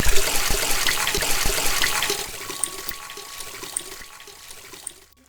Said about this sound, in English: On the way home, it started to rain.